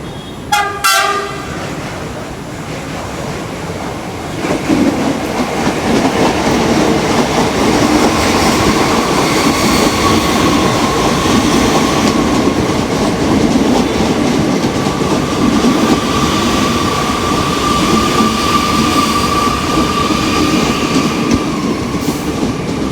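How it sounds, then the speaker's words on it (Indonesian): A new Chinese-built KRL commuter train near Depok station gives a short horn blast, then rumbles steadily and loudly along the rails with a continuous clatter and hum for a long stretch. "Hari ini gue dapat kereta Cina guys, ke arah stasiun Manggarai di daerah Depok."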